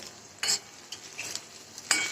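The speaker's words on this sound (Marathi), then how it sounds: "ह्याच्यामध्ये थोडं तेल घ्यायचं त्याच्यामध्ये जिरे टाकायचे मुरी टाकायचे पांढरे तीळ टाकायचे आणि फोडणी द्यायचं हलवायचं" A spoon stirs a tempering of cumin and white sesame seeds in hot oil, giving a faint sizzle with a few sharp scraping knocks against the pan.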